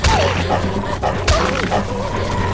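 A dog barking and yipping during a scuffle in The Walking Dead Season 2 game, repeated sharp barks over a dense, noisy mix of struggle sounds and game audio.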